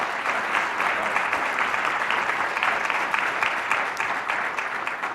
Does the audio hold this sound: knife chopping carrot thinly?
no